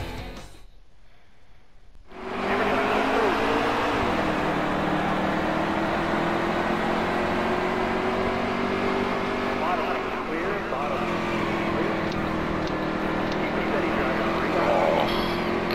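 Number 8 Chevrolet stock car in NASCAR Heat 3, a brief quiet moment then a loud, sustained engine roar at speed with slight pitch dips, steady and close throughout.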